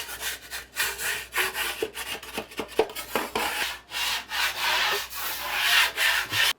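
A scraper drags across dried drywall joint compound on a wall in quick, uneven strokes, rasping and scratching up close with short pauses between passes.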